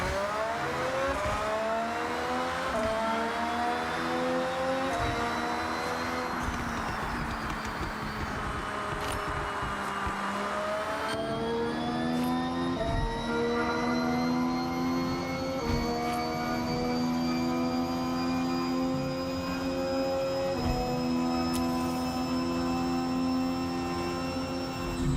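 Car engine in Forza Horizon 6 driven in highway mode, a high-pitched, F1-like whine that revs up and shifts repeatedly, holding loud and continuous with rising tones and abrupt gear changes, with no talk over it.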